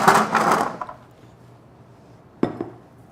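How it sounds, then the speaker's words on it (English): Beets tumble onto a baking tray for sweet and sour beets: a burst of clattering at the start, then quiet, then two short knocks near the end. "So let's add our beets to our tray here."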